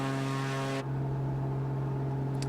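The propeller engine of a Gee Bee R3 Special racing plane in Microsoft Flight Simulator drones steadily and loudly at cruising altitude, a sustained harmonic hum that shifts tone partway through, with no voices.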